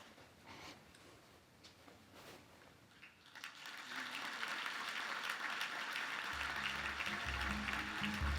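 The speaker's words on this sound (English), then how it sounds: "Big round of applause for Joe Goudie." An audience at a lifetime achievement award ceremony breaks into applause partway through, rising from a quiet room to steady, sustained clapping with some low music entering near the end.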